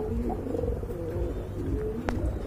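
Pigeons coo softly in a low, steady murmur, a matched pair of fancy breed birds kept for sale, with a faint sharp chirp near the end and constant background noise.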